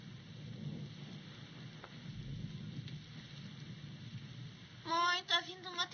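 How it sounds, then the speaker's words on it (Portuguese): Thunderstorm in the 1982 film Poltergeist, with low rumbling thunder under a steady wash of rain, then a voice briefly speaking over the storm near the end. "tá vindo uma tempestade enorme"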